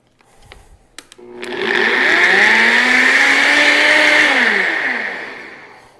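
Blender pulsing a brisket injection mixture: a few clicks, then the motor spins up to a loud whirring drone that holds steady for several seconds before winding down, with no talk.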